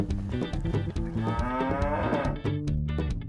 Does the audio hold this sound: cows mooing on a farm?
yes